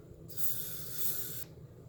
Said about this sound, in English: Then I will take some of my hairspray